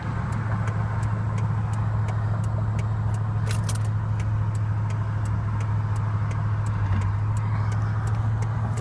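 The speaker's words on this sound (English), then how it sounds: "Okay, look at my car. It is accelerating." The engine of a 2008 Toyota Tundra runs in neutral with a steady, loud low hum. A regular light ticking repeats over it for the whole stretch, and nobody speaks.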